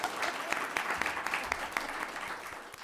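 Applause and scattered cheering from an audience at a Basalt town council meeting, a steady patter of clapping with sharp individual claps standing out, moderately distant and lasting the whole stretch.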